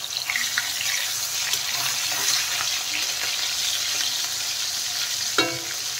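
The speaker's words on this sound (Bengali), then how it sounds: "মাছ ভাজা হতে থাক" Rohu fish pieces fry in smoking-hot oil in a pan, giving a loud, steady hissing sizzle throughout, with a brief clatter near the end.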